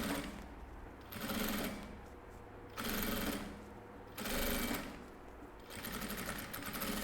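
Sewing machine stitching through fabric for a small eyeglass case, running in bursts of about a second each with short pauses between, a steady close mechanical whir and no talking.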